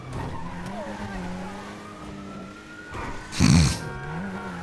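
Tires skid and brakes scrub on a drag-racing Honda Civic in a high-speed racing video game, a short loud squeal breaking over a steady droning engine tone that runs throughout.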